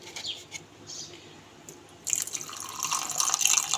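Water is poured into a dry-ground mustard and poppy seed paste with green and red chillies for a rohu fish recipe, a soft trickle that swells into a steady, close splashing pour after a quieter start.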